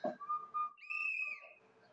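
Children blow toy whistles in a few short, shrill bursts that break off and then sound again, one longer steady tone among them, with a quiet background.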